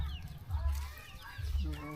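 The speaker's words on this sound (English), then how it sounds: "See, there is a lot of chicken." Chickens on a mountain farm clucking close by in short, low, choppy bursts, with voices of people talking and small bird calls mixed in.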